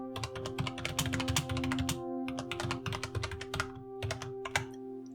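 Someone types on a computer keyboard while playing The Infectious Madness of Doctor Dekker. Quick, irregular clacks of keystrokes sit close up over a faint steady background hum, with no talking.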